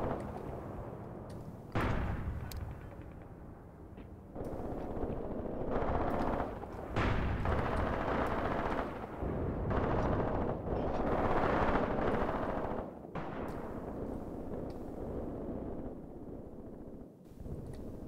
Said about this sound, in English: My tanks with their machine guns are absolutely annihilating the enemy, as expected.